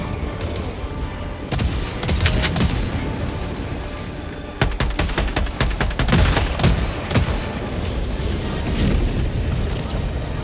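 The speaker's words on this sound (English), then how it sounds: "Toss some of these grenades. Fire in the hole!" Grenade explosions and heavy gunfire in the video game Helldivers 2, with dense, loud bursts of automatic fire and booming blasts rolling almost continuously, plus sharp clusters of shots at close range.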